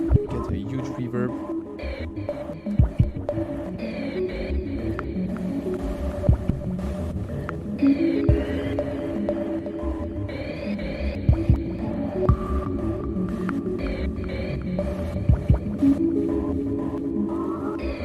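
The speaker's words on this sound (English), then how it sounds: "put the dark reverb on there, set it to send, and then I'm gonna go and get a huge reverb." An Elektron Octatrack plays pulsing, throbbing sounds through a huge dark reverb effect, giving a droning, hollow, whale-like tone with recurring swells and soft thumps over a long stretch.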